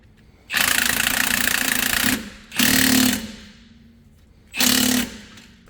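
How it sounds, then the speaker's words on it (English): A power tool fastening an 18mm nut onto a sway bar link on a Jeep Grand Cherokee WJ: three loud, close rattling bursts, the first about two seconds long and the next two shorter, separated by quiet gaps. "now we'll just be ready to throw our 18mm nut back on the bottom of this thing."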